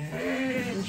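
A sheep or lamb gives a single close, steady bleat lasting under a second, loud and clear, with no voices.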